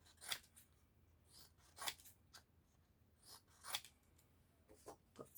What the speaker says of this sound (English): I have some scrapbook paper that I can use, and I can just cut them.